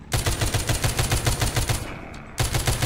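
Rapid automatic gunfire in the zombie shooter The Walking Zombie 2: a steady, loud stream of shots for about two seconds, a brief pause, then the burst resumes.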